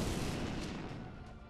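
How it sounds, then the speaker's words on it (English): Game sound effect of men hurled into a stone wall in Code: Realize, heard as a short, muffled, heavy impact and a rumbling crumble that fades quickly, faint and alone. "The soldiers hit a stone wall with a deafening thud, and the wall crumbles with the impact"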